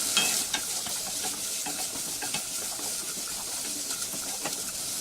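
Onion, chopped capsicum and green beans fry in a pan for a beans capsicum sabji, a steady close sizzle broken by quick scraping stirs.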